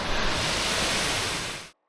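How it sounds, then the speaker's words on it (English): A wonderful waterfall on the trek to Deorali on the Annapurna Base Camp route, a steady, loud broadband rush of falling water that fills the clip evenly and cuts off abruptly near the end. "There's a wonderful waterfall."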